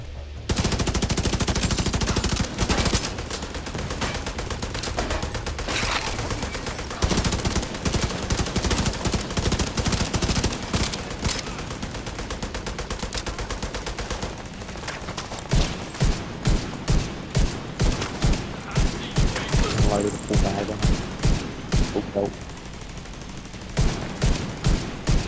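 A deployed turret in Far Cry Primal fires long, loud bursts of rapid automatic shots, one sustained stream that later breaks into short, evenly spaced volleys.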